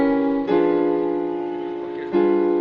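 Piano playing three sustained diminished chords in succession, each struck chord ringing and slowly fading, close and alone without speech.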